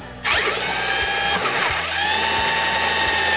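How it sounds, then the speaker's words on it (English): A power drill whirs steadily, drilling a through hole in a metal splitter support brace for a 2000 Mustang Cobra R, close and loud with no voices. "we'll shift our splitter and then drill the through hole."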